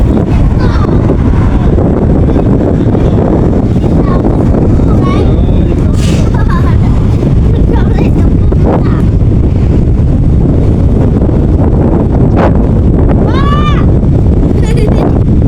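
Strong wind buffets the microphone throughout, a constant loud rumble with people talking faintly underneath.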